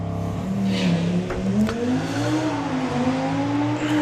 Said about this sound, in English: That 5-cylinder Audi engine.